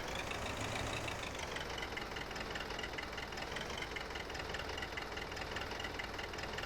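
A tractor engine idling in Farming Simulator 2015, a steady continuous drone with a knocking, rumbly texture that holds level throughout, with no talking.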